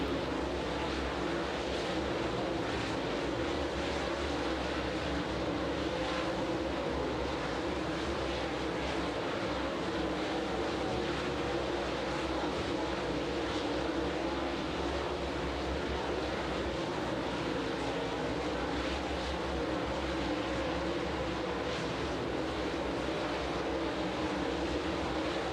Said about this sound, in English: Flight number 2 of Hyperco Hot Laps, your B-main drivers underway here at the Magnolia Motor Speedway